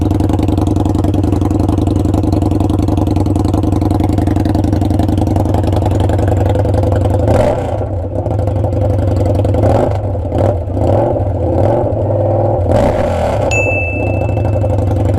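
A loud Indian Scout motorcycle with a 2-into-1 Hacker Mayhem exhaust idles with a deep, throaty rumble, then blips of the throttle rev it up sharply several times.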